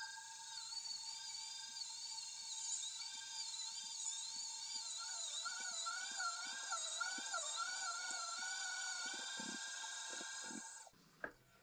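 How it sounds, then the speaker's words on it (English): A meat grinder grinds fatty pork for homemade sausage with a steady high-pitched mechanical whine that wavers in pitch, close and continuous, then cuts off abruptly near the end with no talking. "We grind our fatty pork."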